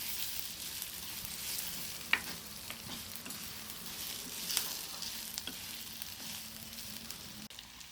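Onions frying in a pan for an attikayi (fig) palya, a low steady sizzle with scattered stirring scrapes and a couple of sharper clinks from the spatula, with no one speaking.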